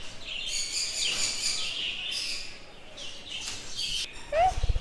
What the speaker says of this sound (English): we've entered the place where there are birds